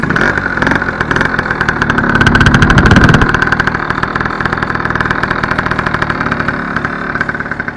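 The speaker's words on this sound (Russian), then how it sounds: "Ну, в принципе, работает он, глушак, довольно тихо по сравнению с другими." A two-stroke motorcycle engine fitted with a different exhaust runs close and loud with a buzzing, rapidly pulsing idle and a brief swell in revs before settling back, with no talk.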